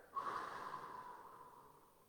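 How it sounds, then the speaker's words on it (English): A single slow breath out through the nose during a guided breathing exercise, soft and close, fading away over about two seconds. "So you're breathing out"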